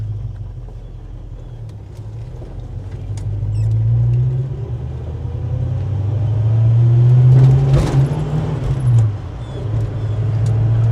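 A 1967 Ford Mustang Fastback with a standard four-speed manual transmission, direct drive and no overdrive, drives along with a steady low engine rumble and road noise that swells and eases as it accelerates, heard from inside the cabin with no talking.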